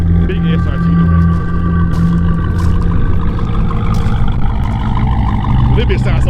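A Dodge Durango Hellcat SRT engine rumbles deep and loud nearby with a throaty roar, while someone talks excitedly over it.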